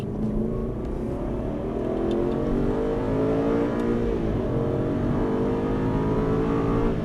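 An Aston Martin accelerates on a race circuit at Dreux, the engine droning steadily and rising in pitch through a long pull, heard from inside the car, loud and continuous with no talk.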